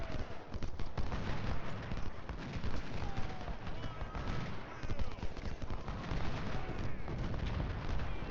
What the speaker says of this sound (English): Looks like these cannons have turned around to shoot at Graham.